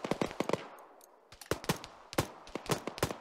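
Arma 3 machine gun fire crackles in rapid bursts of sharp close shots, pausing briefly around the one-second mark before more bursts follow.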